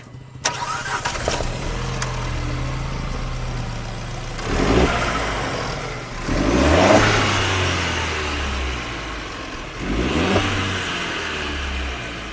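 A Jeep Compass engine, BS4 or BS6 version, revs up in three distinct surges over a steady idle, each rise and fall loud and close with no talking.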